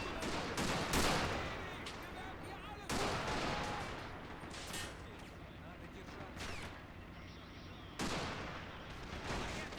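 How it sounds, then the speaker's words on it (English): Dense gunfire and explosions from a Russian infantry battle video game rumble and crack in repeated loud bursts, with a voice talking over the chaos. "Oh shit, he got shot at."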